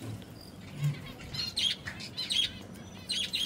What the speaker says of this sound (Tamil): இந்த இடத்துல நிறைய பறவைகள்லாம் வச்சுருக்குறாங்க